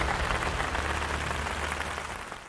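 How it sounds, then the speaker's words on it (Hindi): An audience breaks into loud applause welcoming Dr Ramawtar Sharma, a dense, continuous wash of many hands clapping that tapers slightly toward the end. "तो आइए जोरदार तालियों से स्वागत कीजिए डॉक्टर राम अवतार शर्मा जी का"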